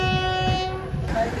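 An Indian passenger express pulled by a WAP-4 electric locomotive runs between Tirupati and Tiruvannamalai, with a steady loud horn tone sounding over rumbling wheels and a brief shift in the rolling noise.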